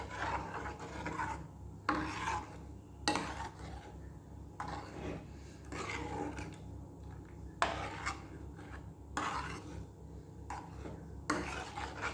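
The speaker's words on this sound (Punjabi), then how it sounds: "ਇਹਨੂੰ ਚੰਗੀ ਤਰ੍ਹਾਂ ਹਿਲਾਉਣਾ ਹੈ" A spoon stirs milk in a cooking pot while a milk sweet is made, giving repeated scraping, rasping strokes in bursts about every second or two, close and steady with no talking.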